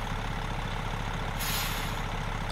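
A truck's parking brake engaging in American Truck Simulator, an International truck hauling an excavator: a sudden loud hiss of air bursting over a steady, rumbling idling engine.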